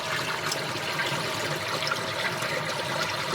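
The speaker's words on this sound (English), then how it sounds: "Drains the water." Water draining in the Unavowed adventure game, a steady, soft gurgling and trickling flow that runs continuously at low volume with no voices.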